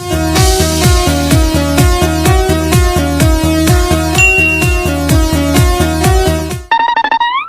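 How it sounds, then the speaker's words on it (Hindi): Been, a snake charmer's pipe, played loud and close in a steady repeating droning melody with a rhythmic pulsing accompaniment, ending in a short rising whistle-like tone. "घंटा भर हो गया बीन बजाते बजाते"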